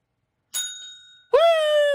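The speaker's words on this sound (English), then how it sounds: "Can you ring that bell for me?" A single bright ding of a small bell rings out and fades, quickly followed by a loud whooping voice.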